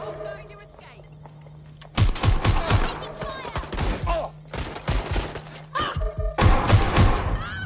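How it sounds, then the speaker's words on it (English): Bursts of automatic gunfire in the Watch Dogs Legion video game, loud volleys of rapid shots starting abruptly and recurring near the end, with voices and other game sounds mixed in. "Shots fired!"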